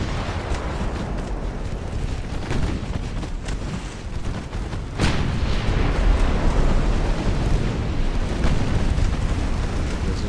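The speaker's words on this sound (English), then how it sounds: "We can put our broadsides in both directions like we're doing right now." Warship broadside gunfire in the naval game Ultimate Admiral: Dreadnoughts, set in 1890 Russia: a dense, continuous rumble of heavy cannon fire with a sharp loud boom near the midpoint, after which the barrage grows louder and stays sustained.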